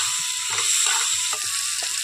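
Potatoes, onion and tomato fry in a pan with a steady bright sizzle, broken by a few soft stirring knocks and scrapes.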